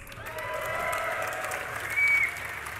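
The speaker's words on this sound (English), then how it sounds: "can we get a cheer for the League of Legends tournament?" Crowd at a League of Legends esports tournament cheering and applauding, a sustained wash of clapping and shouts that swells briefly near the end, heard from within the audience.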